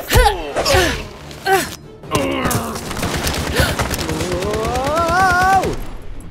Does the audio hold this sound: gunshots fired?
yes